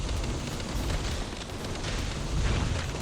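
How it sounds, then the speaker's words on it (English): Dense, continuous explosions and booming blasts in a Void faction video game battle, a steady wall of rumbling detonations with no letup. "We're getting some good explosions off"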